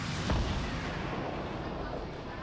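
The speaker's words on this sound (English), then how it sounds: "That is a pumpkin launcher." A pumpkin launcher explosion in Fortnite during a competitive Fall Skirmish match. One loud, dull blast opens the clip and fades into a sustained broadband rumble and roar.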